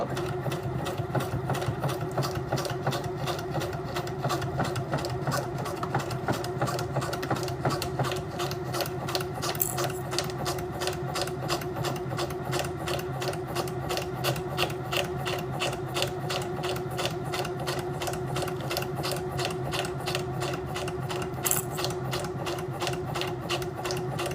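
Sewing machine running steadily while back stitching, a continuous close mechanical whir with a fast regular needle pulse throughout and brief brighter clicks near the middle and end.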